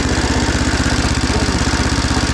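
A small go-kart engine with a worsening, leaky exhaust runs close by, a loud, steady rapid chugging putter with a raspy buzzing edge and no voices.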